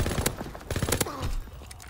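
Gunfire in Call of Duty WW2: a scatter of quick, sharp shots and clicks in uneven bursts, fairly faint and somewhat distant, amid low game noise.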